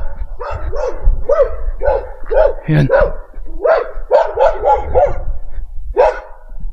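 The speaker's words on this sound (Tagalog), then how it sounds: "Ang ingay ng aso." A nearby dog barks repeatedly, about ten sharp barks in quick bursts, while a person talks briefly over them.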